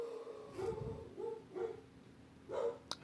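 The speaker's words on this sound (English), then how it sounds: "my dogs are barking" Dogs bark indoors in several short bursts with pauses between them, fairly faint and distant, along with a sharp click near the end.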